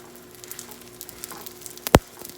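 Msemen flatbread fries in a little oil in a pan, giving a faint, steady low sizzle with one sharp pop near the end.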